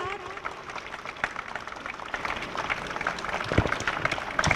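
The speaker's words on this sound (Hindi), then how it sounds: "The sound of applause shall not stop, ladies and gentlemen." Scattered audience applause fills a hall at a school prize and trophy ceremony, a loose, rough clatter of clapping with an announcer's amplified voice talking over it.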